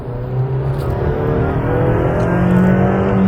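A Honda Elevate engine revs hard toward redline, a steady rising drone heard from inside the cabin with road noise underneath, continuous and fairly loud.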